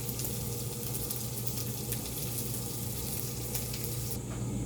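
Tortillas warming in a hot pan at home while making shawarma, giving a steady low sizzle with a faint background hum, no talking.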